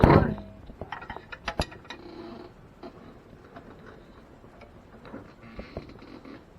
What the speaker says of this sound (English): We're going to put our wrench on there and get it tight as we can by hand.